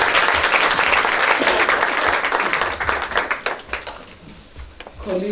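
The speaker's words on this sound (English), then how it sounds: "I think they deserve another round of applause." Applause from an audience at a Literacy Day celebration in Makhado, full and continuous at first, then tapering into scattered claps before a speaker's voice comes in at the close.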